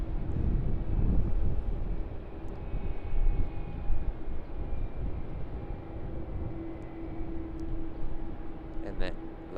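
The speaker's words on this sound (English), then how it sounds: "that lovely sound you can hear is the QANTAS A330-300 crossing runway 25" A Qantas Airbus A330-300 crossing runway 25 at Sydney Airport gives a steady, broad jet engine roar with wind buffeting, heard from a distance for the whole stretch.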